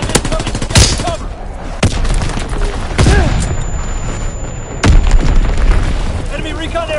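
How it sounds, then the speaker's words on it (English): Enemy artillery and bomb explosions in a PS4 war game, several sharp loud blasts and booms amid gunfire, with voices shouting over the battle. "Incoming enemy artillery! Get to cover! Enemy bomb incoming!"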